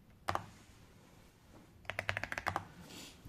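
Keys on a computer keyboard being typed to enter a terminal command on Ubuntu, with a single click early on, then a quick burst of about ten close, crisp keystrokes.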